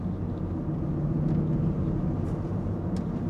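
2022 Land Rover Defender Heritage Edition engine while driving, heard as a steady low rumble and road drone with faint higher whooshes, continuous and close throughout.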